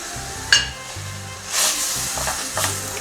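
Garlic frying in hot oil on a home stove, a steady sizzle with a sharp clink of a utensil and bursts of hissing as it is stirred, with no one talking.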